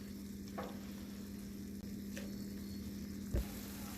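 Rib trimmings, peppers and onions fry over low heat in a cast iron pan on a Camp Chef Explorer stove, a faint steady sizzle with a few soft stirring scrapes and clicks, alone without talk.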